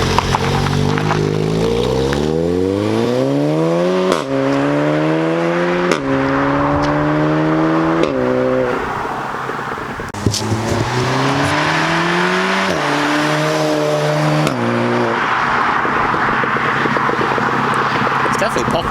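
A VW Golf R with resonator delete and S15 decat exhaust revs hard through repeated rising gear pulls, a loud, raspy engine note climbing and dropping between shifts, heard from inside on a road drive.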